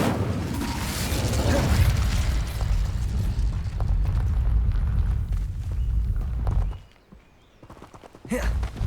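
Incendio fire spell cast in Hogwarts Legacy, a loud roaring whoosh of flame with rumbling bursts that carries for several seconds, drops away briefly, then flares again near the end.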